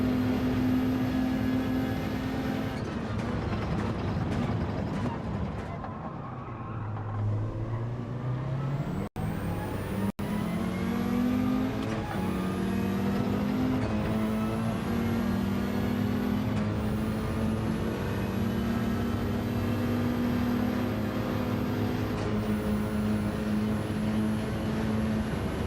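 A French race car in Gran Turismo 7 revs hard and shifts up through the gears, its engine note climbing in repeated sweeps under steady road and tyre noise, loud and close, with no talking.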